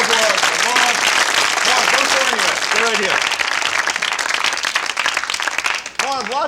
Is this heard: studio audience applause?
yes